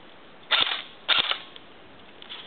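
Airsoft M14 rifle firing on semi-auto, two distinct sharp snapping shots about half a second apart, close and fairly loud, with a faint trailing click afterward and no talking.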